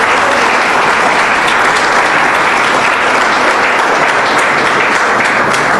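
A church congregation applauds with dense, loud, sustained clapping that stays constant from start to finish, with no voices standing out.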